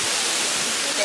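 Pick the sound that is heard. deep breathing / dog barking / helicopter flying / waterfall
waterfall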